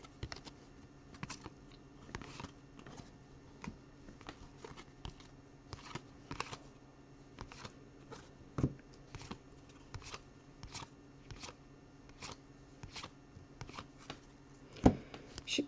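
A trading card, an NBA 2K Shaquille O'Neal insert, slides into a plastic sleeve, giving a run of soft rustling, crinkling plastic scrapes and small taps at close range, with one sharper knock near the end and no talking.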